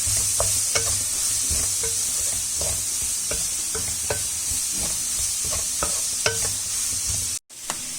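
Chopped capsicum frying in a pan for a bread toast breakfast, a steady hiss of sizzling oil with regular scraping taps of a spatula stirring, close and alone.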